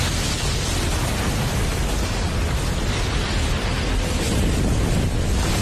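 A massive blast from a reenactment of the Oklahoma City bombing of a nine-storey building roars as a loud, sustained, rumbling wall of noise that barely fades across several seconds.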